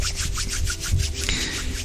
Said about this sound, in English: you can rub your hands together